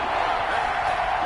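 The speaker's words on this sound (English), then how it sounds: "the crowd getting into it as we come up on a big third down" Stadium crowd in a Madden football video game roaring steadily ahead of a big third down, a dense, sustained wash of cheering with no clear individual voices.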